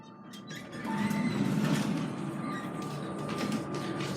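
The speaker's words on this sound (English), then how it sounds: "Alright, it's here. And the doors will open right now." Elevator doors slide open with a rumbling, hissing glide that swells and then holds, over a low mechanical hum and faint tones.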